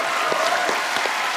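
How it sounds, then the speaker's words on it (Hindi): A television comedy show's studio audience applauds in a dense, steady burst of clapping that fills the whole moment, with no voices over it. "मतलब जोरदार तालियां बनती है।"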